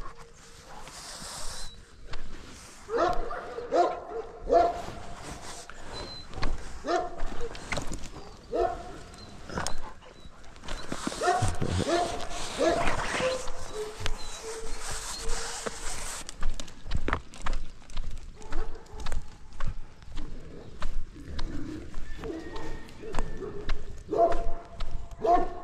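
Several farm dogs bark in agitated bursts near sheep, loud and repeated across the scene amid footsteps and movement, with a person talking over them at times.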